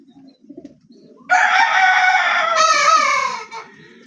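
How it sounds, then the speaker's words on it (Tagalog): A young three-month-old rooster crows loudly once in a long, ringing cock-a-doodle-doo that lasts over two seconds, with faint low background sounds before it. "Yan pala yung tumitilaok ko."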